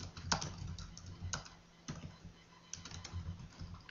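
Quiet, irregular clicks of typing on a computer keyboard, with close keystrokes in short uneven runs and no voices.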